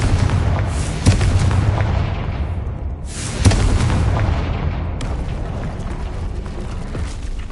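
Repeated blasting spell explosions in a Harry Potter video game, a dense booming roar with two sharper bursts standing out over sustained rumbling, loud and continuous throughout.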